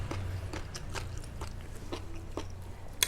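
Crisp, close crunching as someone bites and chews spicy holy-basil stir-fried jellyfish, a series of sharp bites in an uneven rhythm, loud against a quiet background.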